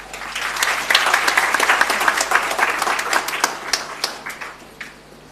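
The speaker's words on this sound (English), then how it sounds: "Once again, another round of applause" A conference audience applauds for several seconds, the clapping dense and steady before thinning out toward the end.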